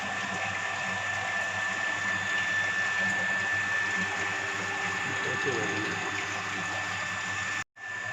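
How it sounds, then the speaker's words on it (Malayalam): An electric motor pump in a fluid mechanics lab runs steadily with a constant mechanical whir and hum while water fills a tank, the drone continuous until a brief cutoff near the end. "അപ്പോൾ മോട്ടർ ഓൺ ആക്കിയിട്ടുണ്ട്, ബൈപ്പാസ് വാൽവ് ക്ലോസ്ഡ് ആണ്. അപ്പോൾ സ്വാഭാവികമായിട്ട് ഇതിലിനിയിപ്പം വെള്ളം വന്ന് നിറയാൻ തുടങ്ങും."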